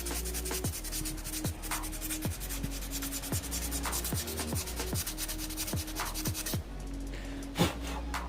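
Moped brake pads rubbed against coarse sandpaper by hand, a close, steady series of rhythmic rasping back-and-forth strokes, each with a short scraping sweep, with no talking over it.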